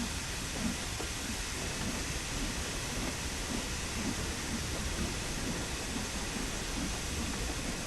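Steam locomotive in the Train Sim World game pulling away after the steam brake releases, a dense, steady hiss and rumble that holds at an even, fairly loud level throughout, with no voice over it.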